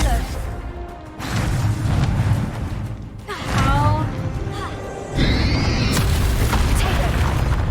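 A Confringo fire spell blast in Hogwarts Legacy, a few deep booming impacts with whooshing bursts, loud and mixed with game speech and swirling magical effects throughout.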